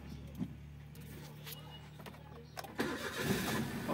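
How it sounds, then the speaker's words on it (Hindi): A Maruti A-Star with a faulty camshaft sensor cranks and catches after a steady low hum, its engine bursting into a loud, rough start in the final second and running on. "गाड़ी बिल्कुल हाफ सेल पे स्टार्ट हो गई है"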